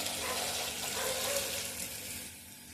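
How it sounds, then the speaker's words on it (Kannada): Tomatoes and green chillies simmer in water in a pot for tomato rasam, giving a soft, continuous bubbling hiss that fades slightly toward the end. "ಟೊಮೆಟೊ ಸಾರು ಮಾಡಲಿಕ್ಕೆ ನಾನು 3-4 ಟೊಮೆಟೊಯನ್ನು ಮತ್ತು ಒಂದು 4 ಹಸಿಮೆಣಸನ್ನು ನೀರು ಹಾಕಿ ಬೇಯಲಿಕ್ಕೆ ಇಡ್ತೀನಿ"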